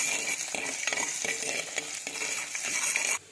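Ginger and garlic frying in hot oil with mustard seeds for a fish curry, a steady close sizzle with rhythmic scrapes of a spoon stirring the pan, no talking.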